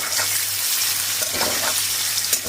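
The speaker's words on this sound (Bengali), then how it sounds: "পনিরগুলো দেখো আমি ভাজা বসিয়ে দিয়েছি" Pieces of paneer sizzle steadily as they fry in a pan of hot oil, giving a continuous close crackle with faint stirring in the background and no talk.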